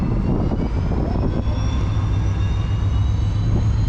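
A loud, steady diesel train engine roar with a rumbling low end and faint whining tones, revving continuously up close at an Irish railway platform, no voices.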